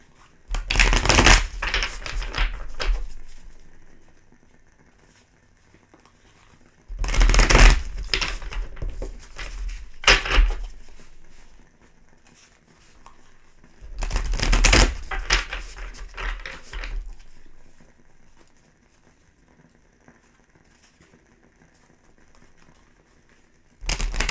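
Three bursts of tarot cards being shuffled up close, each a crisp riffling rush lasting a few seconds, separated by quiet pauses.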